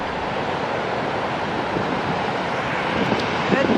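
Rough sea waves break on a beach after a day of rain, a loud continuous roar of surf mixed with wind buffeting the microphone, with no pause throughout.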